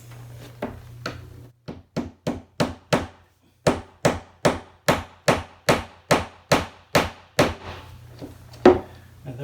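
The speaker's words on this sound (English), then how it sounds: "you're going to hammer these into place in these two holes" A steady run of firm hammer blows driving wooden dowels into holes during IKEA Kleppstad armoire assembly, about two per second, each a sharp knock, with a few lighter taps at the start.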